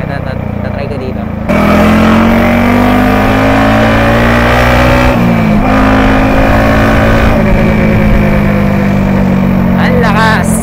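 A Yamaha XSR 155 motorcycle engine revving close by, a loud sustained roar that jumps up after a quieter start, holding a steady drone with pitch shifts midway.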